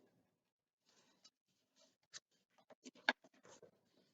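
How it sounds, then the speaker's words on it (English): A marker scratches short strokes onto a sheet of paper, quiet scattered squeaks and taps close up, with a brief burst of quick marks near the end. "take whatever you have, a marker, colored pencil, and mark that on both sides of that sheet of paper"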